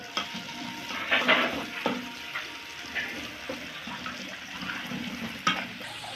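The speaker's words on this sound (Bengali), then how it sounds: "এ পর্যায়ে পেঁয়াজ কুচি ভেজে নেব" Chopped onions sizzle softly in a pan with garlic, with repeated scraping stirs and clinks of a spatula giving an uneven, close-up rhythm.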